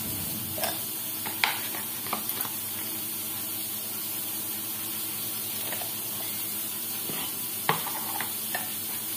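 Pointed gourd (potol) frying in oil over a low to medium flame, a steady soft sizzle with occasional brief spatters and stirring clinks, close and continuous with no talking.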